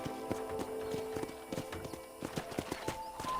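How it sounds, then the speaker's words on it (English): Horse hooves clop in a quick, steady rhythm over a tonal background hum, with a brief whinny-like sound, from the video game Red Dead Redemption. "let's see if you can still ride a horse"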